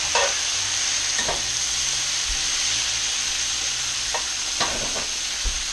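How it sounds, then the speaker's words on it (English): Pork chops fry in butter and oil in a pan, giving a loud, steady hiss of sizzling with a few brief scraping knocks as the meat is turned. "I'm gonna turn these around on the butter and oil"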